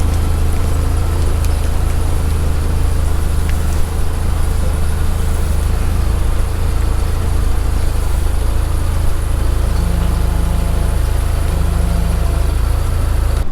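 A forklift engine runs steadily at idle, a loud, constant low rumble with a droning hum that holds unchanged throughout, no voices over it.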